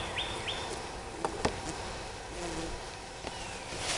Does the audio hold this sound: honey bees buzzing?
yes